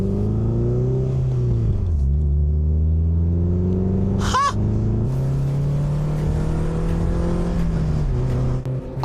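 A naturally aspirated PGO Speedster engine drones while driving. The pitch climbs and falls through gear changes, with a brief sharp squeal midway, and the engine stays loud and close throughout.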